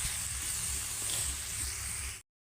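Food frying in a pan in a home kitchen, a steady close sizzle and hiss running evenly for about two seconds before cutting off abruptly.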